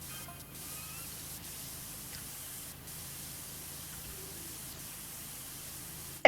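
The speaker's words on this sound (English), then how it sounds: "Go ahead and spray some more." A pressure washer in PowerWash Simulator sprays continuously with an even, hissing rush of water at steady volume, ending in a brief sharp bump.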